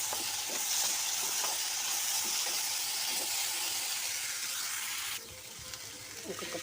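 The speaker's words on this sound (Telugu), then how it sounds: "కొద్దిగా నూనె వేసి బాగా వేయించాలి" Ingredients fry in a little oil in a pan for a Telugu chutney, a continuous close sizzle with stirring clicks, the hiss dropping in level near the end as the pan settles.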